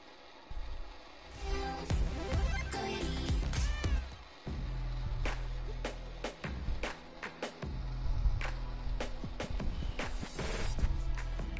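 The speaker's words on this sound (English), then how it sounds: "kitty, kitty, kitty. I'm a cat. It's my cat." A cat meowing several times, drawn-out rising and falling cries close by over a rumbling low background, with occasional clicks and bumps and a little talk.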